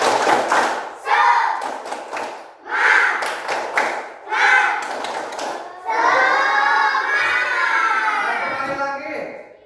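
Primary pupils in an Indonesian classroom during a fractions lesson perform the 'tepuk semangat' clapping chant, with rhythmic group claps and loud voices that build into an extended cheer.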